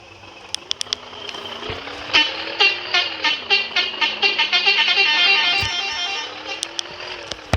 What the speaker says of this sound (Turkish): Kornamız da şu şekilde arkadaşlar.